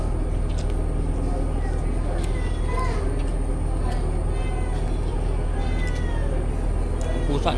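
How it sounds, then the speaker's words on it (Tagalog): A cat meows repeatedly, begging for food aboard a ship, its calls rising over a constant loud engine hum and background noise, with people talking nearby. "Pusa nang hihingi pagkain."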